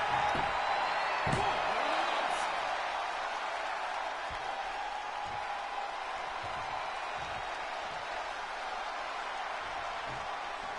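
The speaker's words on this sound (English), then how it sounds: "With every move you make, you hear this capacity crowd following you on that journey." Arena crowd noise from a wrestling video game, WWE 2K20, a steady loud roar with occasional thuds and slams, running beneath commentary voices throughout.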